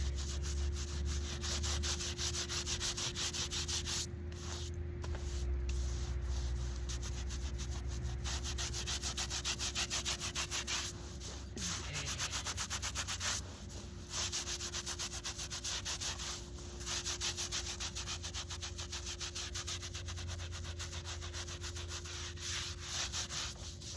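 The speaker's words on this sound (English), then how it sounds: "But I'll give it one more good scrub." Scrubbing a cemetery headstone with a brush to clear hardened dirt, a steady, close, rasping scrub in rapid back-and-forth strokes with a few brief pauses, running throughout.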